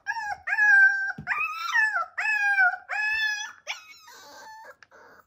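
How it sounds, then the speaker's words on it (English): An Alaskan Klee Kai puppy shut in a crate cries and howls in a series of drawn-out, wavering wails, loud and close, trailing off into softer whimpers. "As long as you've already exercised and potted your puppy, you should ignore the cry."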